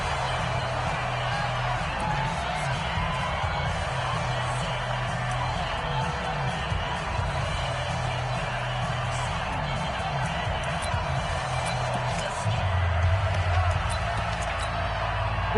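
A stadium crowd in a Madden football video game roars in a dense, continuous wall of cheering under 49ers third-down action. The noise swells slightly near the end, and a commentator's voice is faintly mixed in.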